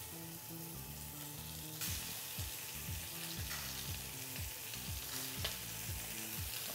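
A pork fillet seared in a smoking-hot pan, a dense, close sizzle with repeated sputtering bursts and a sudden louder crackle as the meat settles in.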